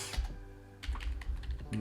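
Several quick keystrokes on a computer keyboard tap out in a short burst, close and clear, with a low background hum and a faint voice beneath.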